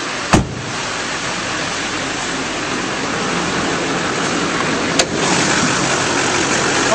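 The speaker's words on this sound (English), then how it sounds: "nice clean engine compartment, and as you can hear, it's running very smoothly." 2006 GMC Sierra 2500 pickup truck engine idling steadily with a smooth, even hum, marked by two brief clicks near the start and later.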